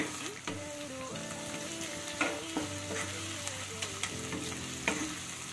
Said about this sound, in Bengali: এবার পেঁয়াজের সাথে আদা রসুনটাকেও খুব ভালো করে ভেজে নিতে হবে